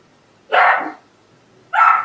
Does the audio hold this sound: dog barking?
yes